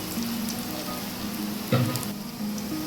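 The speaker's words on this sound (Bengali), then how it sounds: "এইবার আমি তেজপাতা রসুনটা ভেজে এতে আর একটু তেল দেবো।" Bay leaves and garlic fry in oil for chicken kosha, a steady soft sizzle close by with one brief louder clatter partway through, no voices.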